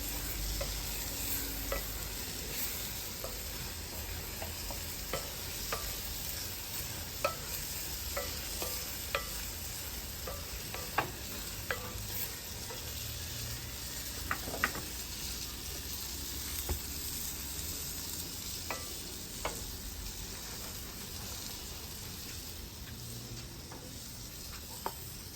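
Onions caramelize in a pan for South African braai burgers, a steady close hiss of sizzling with scattered pops and the occasional scrape of stirring, no voices.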